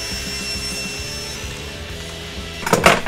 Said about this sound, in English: now I need to cut the shelf.